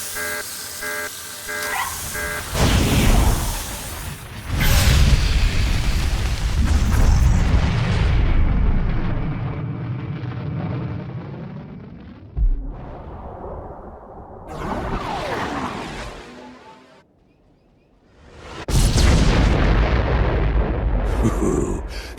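Orbital bombardment in Star Wars: The Old Republic on Balmorra, with heavy booming explosions rolling and rumbling over long stretches, a brief lull, then another loud blast near the end.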